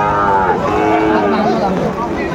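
A Sahiwal bull calf at a rainy cattle market gives a single drawn-out moo close by, with background voices.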